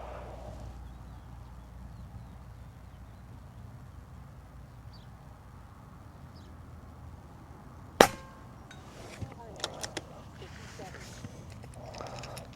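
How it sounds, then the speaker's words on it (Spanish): A quiet room tone, then one sharp, sudden crack of an air rifle firing a slug pellet, followed by a few faint clicks and small knocks. "Voy a utilizar ese primer disparo para apuntar"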